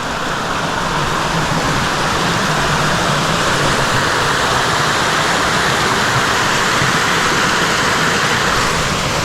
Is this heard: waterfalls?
yes